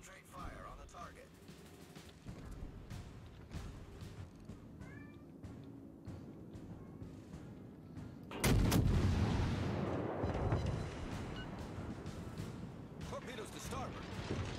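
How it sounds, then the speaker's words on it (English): Warship guns in World of Warships boom in a sudden loud salvo partway through, followed by a rumbling wash, after a quieter stretch of faint game sounds and a voice speaking. "All stations, concentrate fire on the target."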